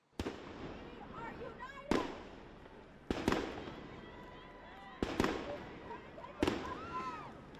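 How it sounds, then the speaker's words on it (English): Police flashbangs going off at a student protest, five sharp loud bangs spaced a second or two apart, each echoing out, with crowd noise and shouting voices between blasts. "officers have been using flashbangs designed to disorientate activists"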